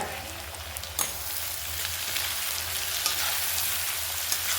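Tomatoes hitting a hot oiled pan and frying, a steady bright sizzle with a few soft stirring clicks, close and alone with no talking.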